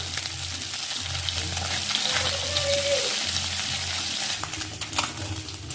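Small mixed river fish fry in hot oil in a pan, giving a steady, dense sizzle that crackles close and even throughout.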